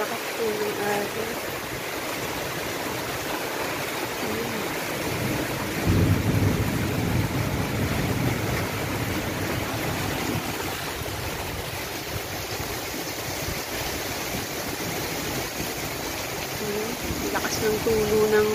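Very heavy tropical rain pours down in a dense, steady roar with water dripping hard from a roof edge, a constant wash of sound with no pauses.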